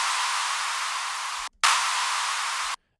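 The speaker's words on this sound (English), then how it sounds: "which gets introduced by an early clap here from the effects group" Bright, noisy clap hits from the effects group of a melodic techno track: two long, sustained bursts of broadband noise separated by a brief gap, loud and dry with no other instruments.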